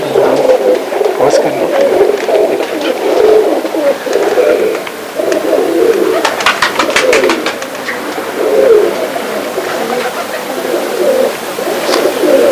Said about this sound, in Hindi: मैंने हाथ में कबूतर खुद अपने पकड़ा है